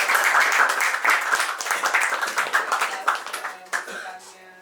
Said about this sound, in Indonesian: tepuk tangan dulu dah